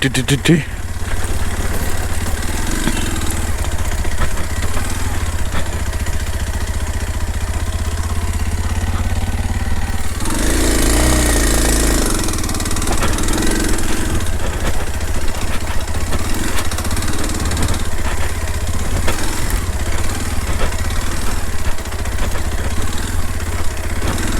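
An off-road motorcycle engine runs steadily and loudly throughout on a coastal path near Mangalore, rumbling low with a surge of revving midway, under rough outdoor noise.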